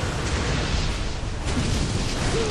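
Boss's flame eruption attack in Ninja Gaiden Sigma 2 on Master Ninja Mode, a dense roaring blast of fiery noise that surges steadily across the whole moment without a break.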